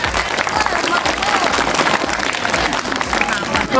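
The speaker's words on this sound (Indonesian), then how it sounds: "Tepuk tangan." An audience applauds during a school Ramadan sermon, with continuous crowd clapping and a busy room murmur blended in, fairly loud and close throughout.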